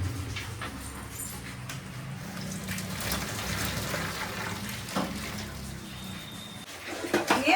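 Water being strained off boiled gatte, gram-flour dumplings for a Rajasthani Jodhpuri dish, a steady splashing pour and trickle in a home kitchen, moderately close and continuous.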